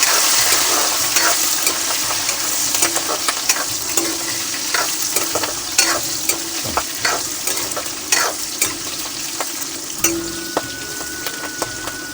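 Loud, continuous sizzling of chillies frying in hot oil, with crackles and pops and occasional stirring scrapes, close up and without speech, in village-style Chhattisgarhi prawn cooking.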